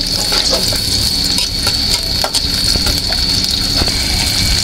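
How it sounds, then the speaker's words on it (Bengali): Chopped onions hitting hot oil in a wok, a loud, dense, continuous sizzle and hiss with small crackles, close up and without speech. "আমি কড়াইটা বসায় দিচ্ছি, তেলটা দিয়ে দিচ্ছি, পেঁয়াজটা দিয়ে দিচ্ছি"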